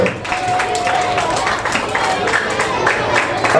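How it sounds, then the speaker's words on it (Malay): An audience at a school National Day closing speech performance claps, a dense, loud run of hand claps with crowd noise, steady for several seconds. "Berikan tepukan gemuruh"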